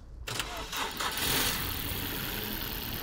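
A car engine cranking and catching in -22 degree frost with a jump starter attached, a short crank followed by the engine firing up and settling into a steady, rough idle, heard close with no talk.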